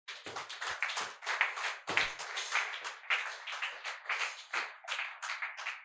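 Congregation clapping in rhythmic bursts during an acclamation of God at a French-language church service on fasting, dense hand claps filling the whole stretch at close range with little other sound.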